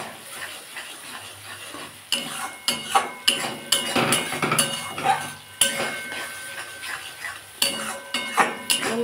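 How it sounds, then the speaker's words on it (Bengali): Spices and cumin being stir-fried in a pan for a cauliflower bhorta, with a steady sizzle beneath repeated scraping and clinking as a utensil stirs against the pan, close by. "এটা ভালো করে একটু কষে নেব।"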